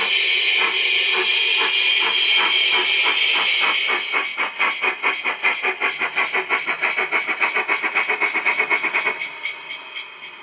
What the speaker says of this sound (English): we've got the loco on a slightly longer bit of track. Try some speed.